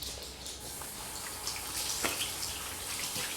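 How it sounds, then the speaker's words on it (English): Water runs from a kitchen tap during handwashing, a steady close splashing hiss with small spatters and drips over a few seconds, with no voices. "wash your hands"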